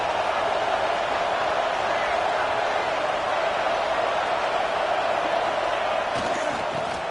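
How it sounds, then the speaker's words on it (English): A football stadium crowd roars in a steady, loud wash of cheering noise during a red zone defensive stand in an LSU vs Arkansas college football game, sustained without a break. "And here comes the noise. This crowd is trying to inspire this defense to make a big red zone stop."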